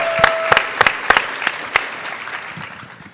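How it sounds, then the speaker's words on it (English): Audience applauding at an International Women's Day event, a burst of sharp individual claps at first that thins out and fades as the round of applause winds down. "Let's give the crowd one more round of applause."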